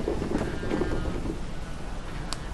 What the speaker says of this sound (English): you can see that it's raining right now where it wasn't just now